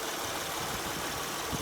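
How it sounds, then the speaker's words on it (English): A 2006 Honda Ridgeline engine with about 255,000 miles idles with a steady, noisy drone and faint rough knocking underneath, close and continuous throughout. "it's running and it's very noisy. You can hear a clunk in here"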